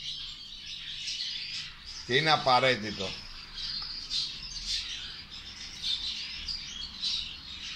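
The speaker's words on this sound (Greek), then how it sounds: "Τώρα ξεκινάνε τα εντομοφάγα πουλιά" Insectivorous birds chirp and twitter steadily in the background outdoors, a dense, continuous chorus at moderate distance, while someone speaks briefly over them partway through.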